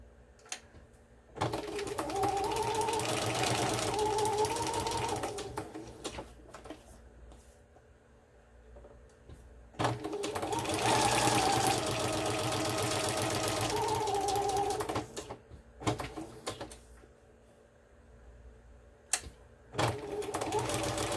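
A sewing machine stitches around a flower appliqué on a fabric pouch, running in two long steady whirring passes of several seconds each with short taps between, close and moderately loud, while someone talks softly over it.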